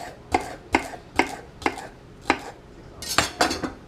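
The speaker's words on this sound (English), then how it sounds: "And just going to cut your celery just like that." A knife chops celery into small cubes on a cutting board, seven or so sharp, evenly spaced taps with a quicker cluster at the end, close and clear with no talking.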